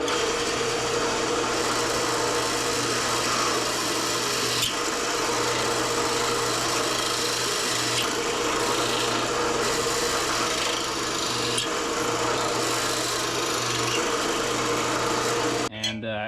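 Power drill boring through wood on a tractor barn frame, a steady close motor whir with grinding bit noise running continuously before stopping abruptly at the end.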